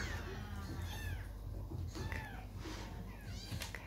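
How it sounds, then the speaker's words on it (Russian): Rescued kittens at an animal park meow repeatedly, with several thin, high, rising-and-falling cries close by over a hissy, noisy background. "Это наши котяточки."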